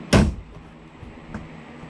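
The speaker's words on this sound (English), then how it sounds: "And when the door shuts, you'll see" A soft fabric upper door on a Honda Pioneer 700 side-by-side shuts with a single close, muffled thump, followed by a faint rattle and near quiet.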